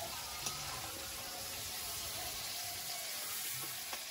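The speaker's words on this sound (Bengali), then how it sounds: "চিংড়িটা ভাজা হয়েছে, এবার তুলে নেব।" Shrimp frying in hot oil in a wok, giving a steady, close sizzling hiss throughout with a few faint clinks.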